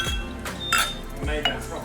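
Glasses clinking together in a toast at a small pub, a few bright chinks in quick succession mixed with voices and background chatter.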